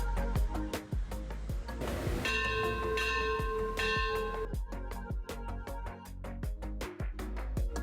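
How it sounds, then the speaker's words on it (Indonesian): Temple bell in Singkawang ringing repeatedly, with bright sustained metallic tones and regular struck hits carrying over a low background rumble, moderately distant. "salah satunya dari bunyi lonceng dan azan yang bersahutan, tanpa ada yang merasa terganggu"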